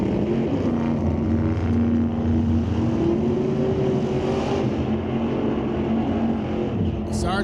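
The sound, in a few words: drag racing cars launching: Corvette Roadster and 86 Daytona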